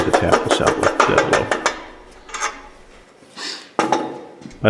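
A dead blow hammer taps a rusted rod out of a Grizzly 1022 table saw: a quick series of sharp, heavy taps rings out, then a few scattered knocks and scrapes with short pauses between them.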